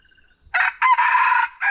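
A rooster crows nearby, a loud, clear call in several drawn-out bursts, after a faint earlier bird call in an otherwise quiet rural setting.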